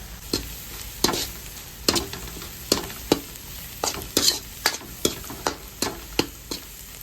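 Garam masala and chicken masala frying in a pan for homemade pasta, stirred with a spoon in a steady rhythm of about a dozen scraping strokes over a continuous close sizzle, with no voices.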